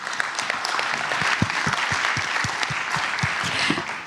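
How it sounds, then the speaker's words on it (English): Audience applause for a panel at an HIV treatment discussion event, a steady crowd clapping that holds at moderate loudness throughout without voices. "I think they deserve a round of applause"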